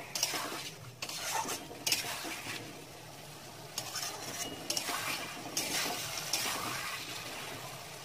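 A spoon scrapes and stirs chilli paneer with a cornflour mixture in a metal pan, repeated clattering strokes over a soft sizzle, close and fairly quiet.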